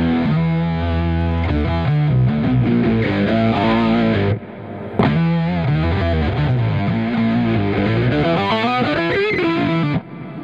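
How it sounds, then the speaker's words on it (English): Buzzy, heavily distorted synth lines from two monophonic synths split left and right through Guitar Rig 5 play a wandering melody, thick and loud with a brief pause before resuming. "It's actually two monophonic synths split, one for the left ear, one for the right ear"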